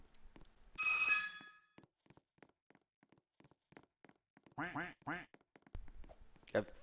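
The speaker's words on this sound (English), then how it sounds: "Grab these rubber duckies." Rubber duckies quack in the Strongman Simulator video game: a loud squeaky burst near the start, then a quick cluster of three or four nasal quacks later, with scattered game clicks between.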